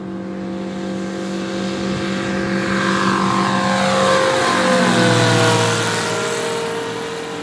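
A motorized hang-glider trike engine at the Cambaie ultralight airfield on Réunion throttles up to take off again after touching down. A steady, droning harmonic roar swells as it passes close, then its pitch drops away. No one speaks.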